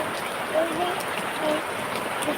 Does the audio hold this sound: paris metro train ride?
no